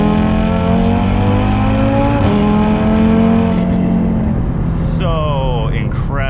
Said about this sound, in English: And I love the 5-cylinder. It's kind of like a baby V10 the way it sounds.